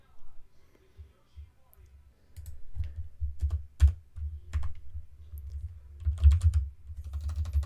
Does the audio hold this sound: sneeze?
no